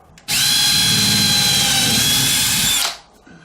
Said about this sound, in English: Then you're going to drill the rest of it.